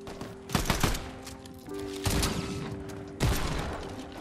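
Desert Eagle pistol shots in Fortnite go off as several separate sharp bangs, paired and then spaced apart, punching through a steady tonal game backdrop.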